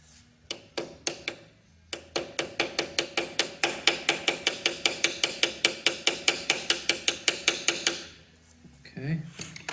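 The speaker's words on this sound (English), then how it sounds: "We have a woodruff key that goes in here, a little tap in there." A hammer taps a Woodruff key into place on a 10EE lathe being refurbished, a run of about thirty sharp metallic taps in a quick steady rhythm, close and clear, then a brief murmur of voice after they stop.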